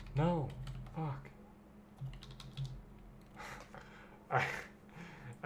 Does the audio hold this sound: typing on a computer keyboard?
yes